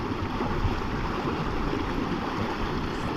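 A flowing creek rushes steadily and loudly up close, a dense, unbroken wash of water with no voices over it.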